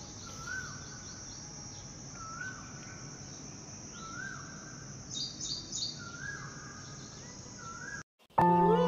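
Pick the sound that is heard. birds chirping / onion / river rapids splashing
birds chirping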